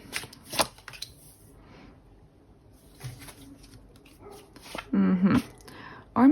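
Tarot cards are shuffled in quick riffling bursts during a card reading. The bursts are close but fairly quiet, separated by pauses, and a few louder knocks and handling noises come near the end.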